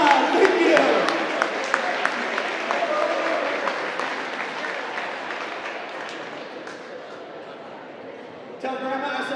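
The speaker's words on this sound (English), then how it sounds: "Give them a big round of applause!" An audience at a live magic presentation bursts into loud, sustained applause that slowly fades over several seconds, with a few scattered shouts and a burst of other noise near the end.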